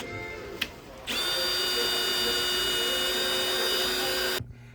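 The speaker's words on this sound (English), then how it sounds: "So we're going to drill a hole." A power drill bores into a Nordhavn boat hull while the boat is out of the water, a steady loud whine that holds for about three seconds and then stops abruptly, after a brief click at the start.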